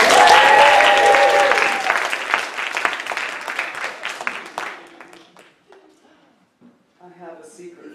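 Theatre audience applauding during a stage performance of The Bacchae, loud sustained clapping that gradually fades, with voices and laughter surfacing as it dies away.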